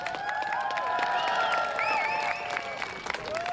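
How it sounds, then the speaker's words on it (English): An outdoor climate rally crowd in Congress Park applauds a line of people stepping forward, with brisk claps mixed with high whoops and whistle-like cheers, fairly close and lively throughout. "receive a little round of applause if possible"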